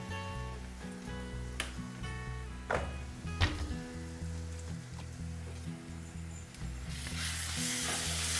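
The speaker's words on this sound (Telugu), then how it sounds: "అల్లం వెల్లుల్లి పచ్చివాసన పోయేంత వరకు మంచిగా వేగనివ్వాలి." Ginger garlic paste fries in a pan with sautéed onions and turmeric, giving a soft continuous sizzle and hiss with occasional stirring scrapes and clinks, close but quiet, with no talking.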